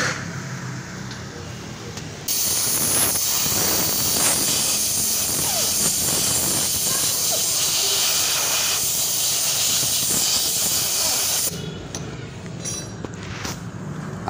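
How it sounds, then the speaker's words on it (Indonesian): A compressor's air nozzle blasts a loud steady hiss to clean the spark plug of a Honda PCX160 scooter, running about nine seconds with quieter moments before and after, and no talk. "Kita sikat pakai kawat dan kita semprot pakai kompresor."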